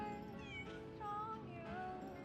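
A cat in the video game Lies of P meows several times in clear, rising and falling cries, close and fairly soft, alone with no speech.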